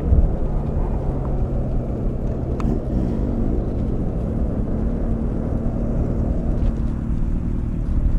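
A Hopkins Foundation McLaren race car runs at an airstrip time attack event, a steady, loud engine drone holding throughout with little change.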